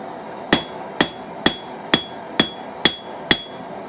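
A blacksmith hammers hot metal flat with heavy, evenly spaced blows: seven sharp ringing strikes about half a second apart, close and loud, with a faint background hum between hits and no talk.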